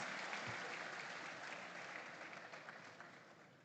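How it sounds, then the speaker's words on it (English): Applause at a school farm awards grand final greeting a woman called up for the opening prayer, a dense, fairly quiet wash of clapping that gradually fades over a few seconds. "Please, a round of applause for Madam Terence"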